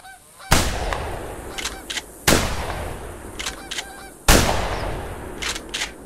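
In the hunting game theHunter, geese honk repeatedly as they fly overhead, and three loud gunshots ring out about two seconds apart and cut across the calls.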